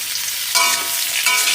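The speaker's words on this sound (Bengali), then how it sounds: "এবার আমি সুন্দর করে ভেজে নেব।" Sliced green chillies and turmeric hiss in hot oil in a pan for a village-style spinach dish. The sizzle is loud, close and continuous, with two brief surges as the spices are stirred.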